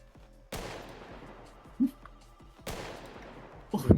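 Gunfire in a shooter video game: a couple of sharp shots, each trailing off in a long echoing decay, with a steady low engine-like drone underneath and brief, muffled voices near the end.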